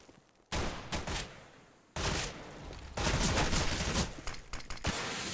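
Counter-Strike: Global Offensive match on the Inferno map, with bursts of rapid SMG fire in dense, loud volleys separated by short pauses, several bursts overlapping near the end.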